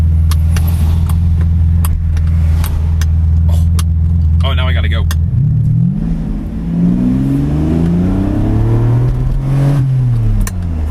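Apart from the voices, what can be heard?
Ferrari 575 engine revving in second gear, gated manual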